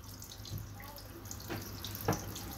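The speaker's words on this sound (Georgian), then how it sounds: "აშკარად წყალი გამოდის." Water leaking and running out indoors, a faint steady trickle with a couple of soft splashy drips, quiet and close.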